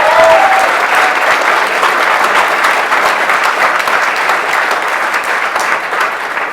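A federal election candidates' debate audience in Calgary breaks into loud, sustained applause that stays strong and even across several seconds. A brief voice sounds at the start.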